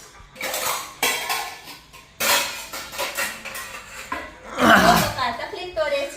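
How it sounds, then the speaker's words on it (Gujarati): Metal utensils and pots being set down in a village home kitchen, several loud clattering clanks in irregular bursts, with voices talking in between. "તું ધીમે વાસણ મૂક મને અવાજ આવે"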